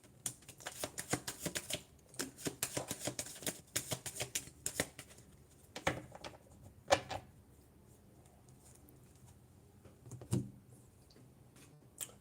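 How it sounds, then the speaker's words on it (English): A deck of playing cards is shuffled in quick repeated bursts of crisp riffling clicks, pausing between rounds with a few isolated snaps near the end, close and fairly quiet. "As soon as I get done shuffling these cards"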